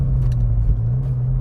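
2017 Ford Fiesta ST engine in second gear at slow speed, a steady, loud low drone with a constant deep hum and road rumble throughout, no voices.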